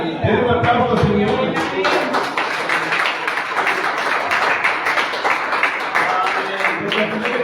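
A church congregation claps together in sustained, dense applause for the Lord after a preacher's call, with a voice speaking briefly at the start.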